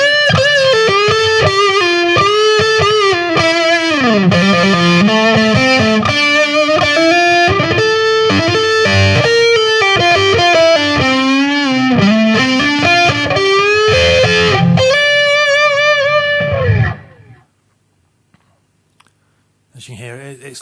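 An electric guitar plays a lead line through a lower-gain amp with short delay, rippling bends and runs filling most of the stretch before fading into near silence.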